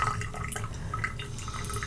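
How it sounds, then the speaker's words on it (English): A bathroom tap left running at a gentle trickle into a sink, a steady soft splashing with light drips, close by and continuous with no talking. "turn on the water. Little trickle, doesn't need to be strong."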